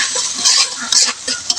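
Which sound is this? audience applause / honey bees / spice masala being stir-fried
spice masala being stir-fried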